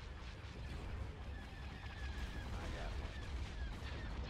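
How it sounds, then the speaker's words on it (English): Ion cannons firing in a Star Wars: Empire at War: Forces of Corruption space battle, a dense, steady barrage of booming blasts and crackling shots with no break across the few seconds. "They are hitting it with ion cannons"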